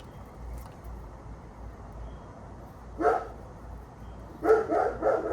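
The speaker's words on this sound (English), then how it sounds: "There's my neighbor's dog barking like always." A neighbor's dog barks outdoors at a distance, one short bark followed later by a quick cluster of several barks over steady low background noise.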